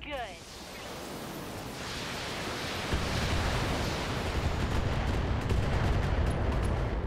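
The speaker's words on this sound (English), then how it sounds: "we could shoot at him with our LRMs" Long-range missile volleys fired by mechs in the BattleTech video game, a dense continuous roar of overlapping blasts that builds and holds loud throughout, with a voice speaking briefly at the start.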